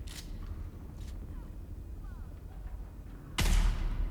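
Gunfire in a video game set in a deep desert, with a loud, sharp shot near the end aimed at an enemy at range, preceded by a couple of faint pops over a low ambient rumble.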